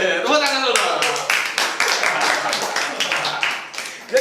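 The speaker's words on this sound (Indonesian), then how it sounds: "Tepuk tangan dulu." An audience at a live evening comedy show claps and applauds in a loud, dense burst that fades out over a few seconds, with a host's voice briefly heard at the start.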